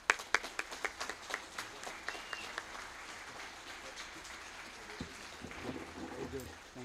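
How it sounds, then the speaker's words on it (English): Audience applause at a Masonic symposium, starting with sharp, loud individual claps that thin into a steadier patter of clapping across the room, fading toward the end. "Please give them a round of applause."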